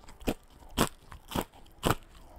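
Someone crunches food right into a microphone, four sharp, loud, evenly spaced bites with quiet gaps between, very close and alone.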